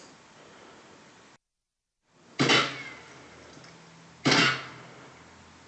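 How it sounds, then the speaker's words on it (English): A door closing in the video game Insurgency, with two sharp knocking thuds about two seconds apart following a brief silence, close and clear over faint room noise, and no talking. "Wait for the door to close."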